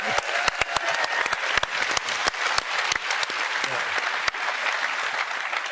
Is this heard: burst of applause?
yes